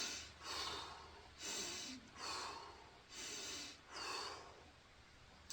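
Slow rhythmic breathing, five audible breath cycles of airy inhalations and exhalations, close and fairly quiet, with no talking, as someone breathes into an area of pain and then exhales.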